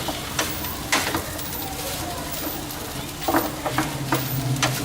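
Shrimp fried rice with egg sizzles and scrapes as it is stir-fried and broken up in a hot pan, with close, irregular spatula strokes over a constant crackle.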